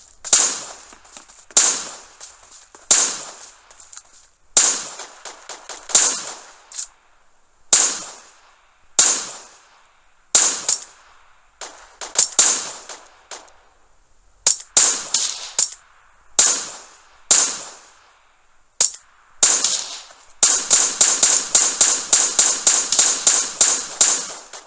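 Gunfire in the mobile shooter game PUBG Mobile, sharp loud shots fired singly and in short bursts with brief gaps, ending in a rapid sustained automatic volley.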